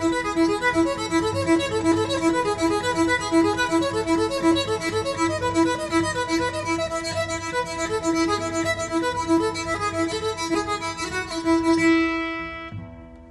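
Guitar strings sounded with a Pickasobow, a real bow with synthetic hair on two sides, in a single-string technique: a continuous sustained bowed tone with gently pulsing notes that stops abruptly near the end.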